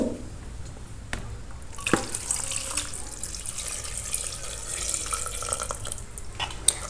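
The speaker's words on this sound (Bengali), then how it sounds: "আমি এটার ভিতরে পরিমাণ মতো পানি দিয়ে দিব।" A steady stream of water runs into a cooking pot of chana dal with vegetables, with a few light knocks and clinks against the metal throughout.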